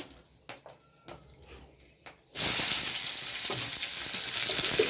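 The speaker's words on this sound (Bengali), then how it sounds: "একটু শুকনো লঙ্কা ফোড়ন দিলাম" Dried red chillies hit hot oil as a tempering for a lau chingri bottle gourd and prawn curry, a sudden loud sizzle that holds steady after a few soft clinks and taps.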